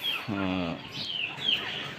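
A chicken lets out a short, throaty cluck up close on a cold morning, followed by faint high chirps and bird calls in the background.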